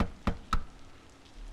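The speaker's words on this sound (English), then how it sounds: "raises one hand to rap sharply on the door" Two sharp raps on a door in a dating video game, spaced about a quarter second apart, followed by quiet room tone.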